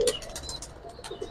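Pigeons cooing at a Bangladeshi market stall selling Giribaz coloring and pangkhi pigeons: several short soft coos and chirps in quick succession, fairly faint, with no talk over them.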